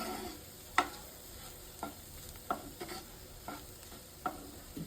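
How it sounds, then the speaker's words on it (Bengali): A low, steady sizzle of duck eggs and onion scallions frying in a pan runs throughout, with sharp clicks of a spatula stirring and tapping at irregular intervals. "এই যে ভাজা হচ্ছে পেঁয়াজের কলি দিয়ে"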